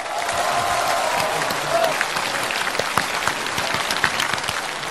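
A studio audience at a Chinese televised comedy challenge show applauds steadily for several seconds, dense clapping filling the room at an even level, with a brief cheer or voice rising near the start.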